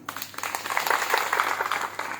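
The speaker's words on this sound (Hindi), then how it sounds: "बजा दीजिए ताली" An audience at a rally speech about a coal satyagraha breaks into applause, a dense patter of clapping that holds steady for a couple of seconds.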